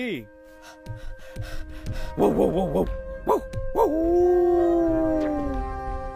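A human voice imitates a dog howling with its snout raised: a short gasp, then wavering rising-and-falling yowls building into one long sustained howl that slowly fades, close and loud.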